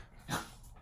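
Dogs in a home during a makeup session, giving a brief single bark or huff at moderate distance, rising and fading within a second against a quiet room.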